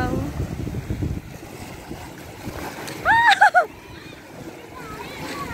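Sea water splashes and washes continuously at a beach resort in Morong, Bataan, with busy surf noise and people talking and shouting nearby, including a brief high call in the middle.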